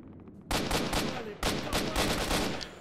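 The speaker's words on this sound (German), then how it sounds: "Ich sollte nicht diese Munition verschießen." Two rapid bursts of gunfire in S.T.A.L.K.E.R.: Shadow of Chornobyl, each a quick string of sharp close shots, separated by a brief pause after a quiet opening.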